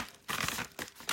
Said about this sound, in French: je le remets dans l'enveloppe pour pas